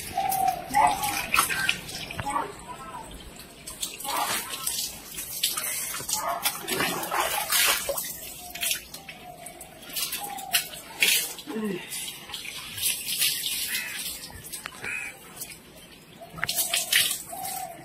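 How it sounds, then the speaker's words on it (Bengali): Water is poured repeatedly over the body while bathing in a village setting, with bursts of splashing and dripping close by and a voice talking in between. "এবার শুধু জল ঢেলে ঢেলে চান করবো শুধু।"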